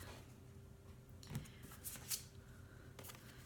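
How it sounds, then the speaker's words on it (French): Tarot cards drawn one after another from a deck, giving a few soft slides and light flicks. The sound is quiet and close, with no talking. "je vais aller tirer les autres cartes"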